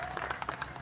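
Audience applause at a Hindi poetry gathering (kavi sammelan) in Hapur, a brief burst of many hands clapping in a hall, dense and moderately loud.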